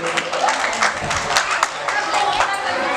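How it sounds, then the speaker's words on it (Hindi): An audience claps for a speaker at a housing society's annual general meeting, a moderate, uneven patter of hands with scattered chatter and voices mixed in throughout. "जोरदार तालियां हो जाए वक्ता जी के लिए"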